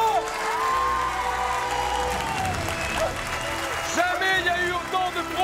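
A large crowd of 163 building tradespeople at a construction site claps and cheers loudly and continuously, with whoops and shouts rising over the steady applause.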